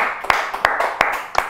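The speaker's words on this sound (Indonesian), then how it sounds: "tepuk tangan dulu dong untuk Mas Muklai" A few people in a small audience at a local visual artists' forum clap in four sharp, evenly spaced claps over a murmur of voices.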